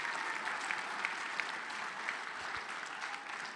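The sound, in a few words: gala audience applause for donors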